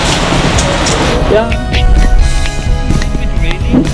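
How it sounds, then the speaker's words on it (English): Rain falls steadily outdoors among potted plants, a dense, constant hiss that fills the whole stretch while someone briefly speaks over it. "It's raining."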